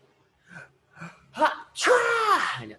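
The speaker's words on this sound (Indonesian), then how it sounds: "kalian pernah bersin?" A person's sneeze, with a few short sharp inhales building up to one loud, close, drawn-out burst.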